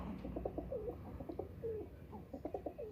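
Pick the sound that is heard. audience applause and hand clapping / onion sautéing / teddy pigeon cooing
teddy pigeon cooing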